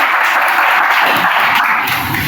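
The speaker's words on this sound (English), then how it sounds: "Let's give a huge round of applause" Sustained applause from a Toastmasters meeting audience congratulating a member on completing a course, a steady dense wash of clapping throughout without pauses.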